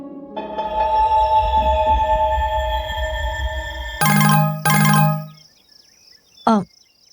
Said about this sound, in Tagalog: bigla na lamang mag-ring ang di-keypad kong cellphone